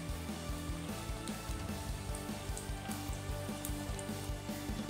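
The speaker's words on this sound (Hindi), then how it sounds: "देखिए हमारे पकोड़े एकदम अच्छी तरह से फ्राई हो रहे हैं।" Pakoras sizzle steadily while frying in hot oil, a dense, even crackle with small popping bursts that continues without a pause and with no voices over it.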